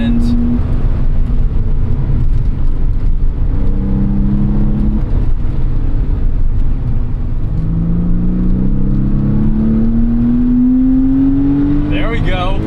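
Air-cooled engine of a Porsche 911 (993) Carrera S pulling hard from inside the cabin, a loud continuous drone rising in pitch as it accelerates, with a voice talking over it.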